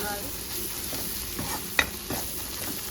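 Ginger-garlic paste fries and sizzles in a hot pan while a spoon stirs it, giving a steady crackling hiss with a few louder scraping clinks.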